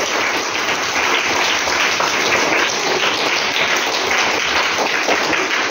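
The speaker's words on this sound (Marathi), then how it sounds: "सर्वांनी त्यांच्यासाठी जोरदार टाळ्या वाजवायच्या" Loud, dense applause from a school audience at a Marathi children's literature gathering, steady crowd clapping that fills the whole stretch without a break.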